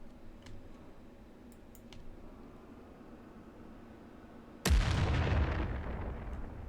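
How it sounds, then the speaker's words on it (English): An explosive charge blasts a rock in the space-mining game Digger: Galactic Treasures, bursting out as a single loud, sudden boom after a stretch of quiet ambient hum and faint ticks, then rumbling on with a dense, decaying roar. "Let's test out the explosive charges on."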